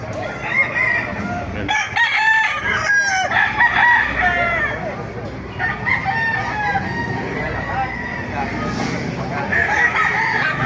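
Several roosters crow over and over amid clucking and a busy crowd murmur at a chicken market in Baliuag, Bulacan, loud and close, one crow after another.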